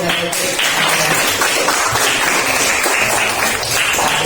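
A classroom group gets a round of applause, with dense, continuous clapping from many hands filling the room at a steady loud level for several seconds.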